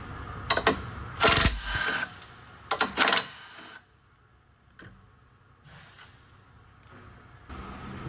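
Bolts come off a BMW M2 with the S58 engine during a spark plug job: two loud, harsh bursts of tool noise early on, then quieter scattered clicks and handling sounds nearby.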